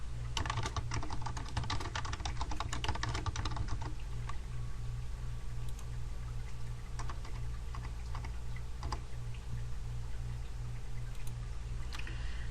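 Typing on a computer keyboard while filling in a form, a dense run of quick clicking keystrokes at first, then sparser taps over a steady low hum, close and fairly quiet.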